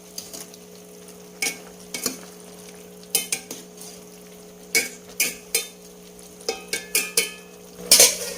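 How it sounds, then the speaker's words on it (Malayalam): A spoon stirring Kerala aviyal in a pot, with a dozen or so sharp scrapes and knocks against the pot at irregular intervals over a low steady hum, close and clear with no talking. "ഇനി നമുക്ക് ഇതൊന്ന് ഇളക്കി കൊടുക്കാം"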